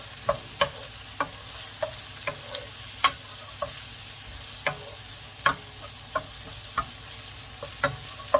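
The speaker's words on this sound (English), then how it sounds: "It's called a stir fry for a reason." Onions and peppers stir-frying in a pan for sweet chilli noodles make a steady sizzle, broken by regular sharp clicks and taps from a utensil keeping the food moving, with no talking.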